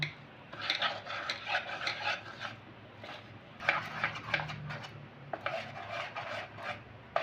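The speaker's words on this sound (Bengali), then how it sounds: "একটু একটু দুধ দিয়ে কিন্তু ব্যাটারটা এখন তৈরি করে নেব আমি" A spoon rasping and scraping in a bowl while mango fritter batter is stirred and milk is added bit by bit, in steady repeated strokes with short pauses, fairly close and quiet.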